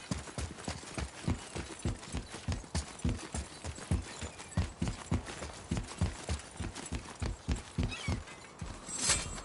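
Horse hooves clip-clop in a steady, even rhythm in God of War, loud and close, continuing for the whole stretch with no talk over them.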